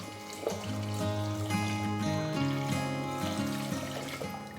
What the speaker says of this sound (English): 4 cups water.